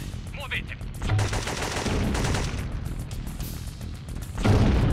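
Gunfire in the video game Syphon Filter 2 during a firefight at a C130 crash site: dense, sustained automatic shooting rattles continuously at high volume, with a heavier burst near the end.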